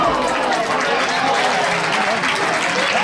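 A football crowd at a Berga home match applauds a near miss, with sustained, dense clapping and crowd noise rolling on steadily for the whole stretch, loud and fairly close.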